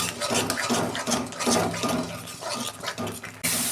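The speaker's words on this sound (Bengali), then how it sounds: "আমি জল দিচ্ছি, অল্প জল দেবো, চিংড়ি মাছ তো" Water poured into a pan of cooked, oil-separated spice masala for a prawn curry gives a steady, close gush and splash with a brief gurgle, and the flow cuts off near the end.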